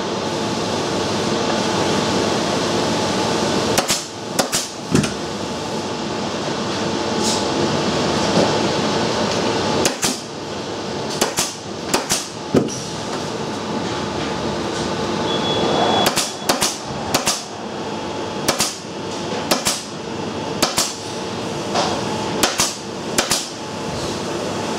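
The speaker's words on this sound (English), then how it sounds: "then staple the bottom of the horseshoe to that tacking strip again" Staple gun fixing a Triumph Spitfire seat cover to a wooden tacking strip, sharp snapping shots scattered irregularly, some in quick clusters, over a steady workshop hum.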